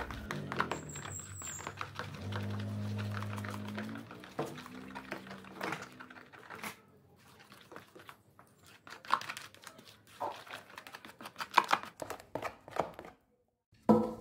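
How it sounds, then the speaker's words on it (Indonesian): Corn cake batter with a half teaspoon of baking soda being stirred in a bowl, with soft, irregular scraping and sloshing strokes that come close and clear, then taper off into quieter, scattered clinks and taps. "Kemudian kita aduk-aduk kembali sampai tercampur rata"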